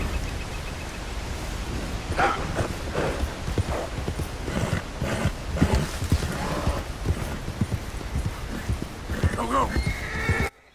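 A horse in Red Dead Redemption 2 neighs and clip-clops along a snowy northern trail during a hunt for bears. The hoofbeats are steady, whinnies rise over wind noise, and someone talks over it.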